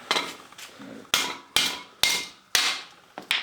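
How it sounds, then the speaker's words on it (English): Sharp metallic hammer strikes on seized brake pads of a Toyota Cressida land one after another, about five heavy blows at a steady pace, close and loud, each ringing briefly. "I hit him with a hammer to break them free"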